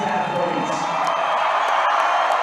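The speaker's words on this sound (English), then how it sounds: "Whole crowd cheering." Crowd cheering at a state swim finals, a broad, steady roar of many voices echoing through an indoor pool hall, with a commentator talking over it.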